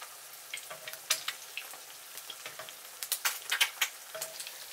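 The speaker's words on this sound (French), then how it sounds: "Je les arrose avec l'huile de cuisson pour faire coaguler le blanc." Eggs frying in hot cooking oil in a pan while being basted, giving a close, crackling sizzle of irregular pops and spits with louder bursts toward the middle and end; no voices.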